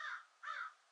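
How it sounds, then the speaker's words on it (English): Two harsh crow caws in quick succession, fairly clear and moderately distant, with nothing else around them. "Oh, what up, Crow?"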